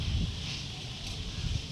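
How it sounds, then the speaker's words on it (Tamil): Wind blowing outdoors, a low, faint rush with gusty swells that rises and falls and has no distinct sounds in it. "எங்கிட்டா இருந்து காற்று வருது, எங்கிட்டே தெரியலையடா."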